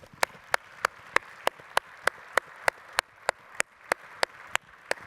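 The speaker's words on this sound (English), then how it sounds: "giving all of those that have contributed to this event a strong, strong round of applause," Clapping at a conference on additive manufacturing. Sharp, evenly spaced claps ring out about three times a second in a steady rhythm, sounding more like a few hands than a full crowd.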